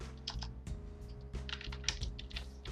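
Rapid, uneven typing on a computer keyboard while editing text in Adobe InDesign, a steady run of close, soft key clicks with brief pauses and no talking.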